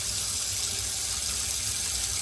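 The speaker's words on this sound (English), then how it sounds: "So right now I'm just gonna rinse these off, and we're gonna go ahead and do another set of water." Chitlins rinsed under a running kitchen tap during cleaning with salt and vinegar, a steady close rush of water splashing into the sink for the whole moment with no talk.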